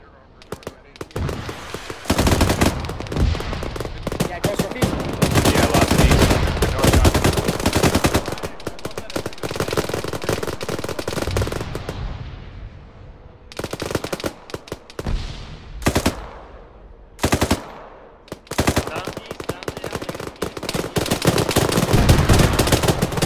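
Heavy machine gun fire in a military video game rattles in long, loud sustained bursts broken by short gaps, with distant booms and radio-style voices talking between volleys.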